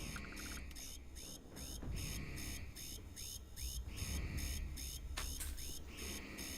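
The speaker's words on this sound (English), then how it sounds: "Can I shut the alarm off?" An alarm sounds inside the video game Starfield: a repeating electronic tone pulses steadily, about once a second, over a dense hum of game noise.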